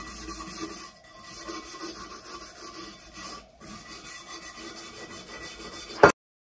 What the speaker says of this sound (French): je vais quand même passer un petit coup de brosse métallique, retirer les impuretés.